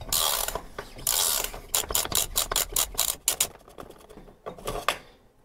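A tool unscrews a bicycle bottom bracket with a rapid series of close ratcheting clicks in bursts, interspersed with metallic scraping and rubbing as the part turns, and no voices.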